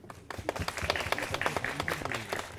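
Brief, fairly faint clapping from an audience honoring a film director's work coaching young actors, a steady patter of many hands throughout the short stretch.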